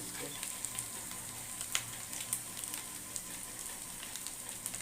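Chicken frying with biryani masala in a pan, a steady close sizzle with scattered crackles and small pops throughout, no talking.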